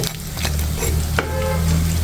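Jackfruit pakora fries in a little oil in a pan, sizzling steadily and close with a soft stir or clack partway through, no voices.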